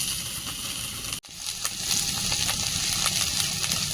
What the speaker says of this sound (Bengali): এখন তুলে নেব ওই তেলে দিয়ে দিচ্ছি আদা বাটা ফেটো করা রসুন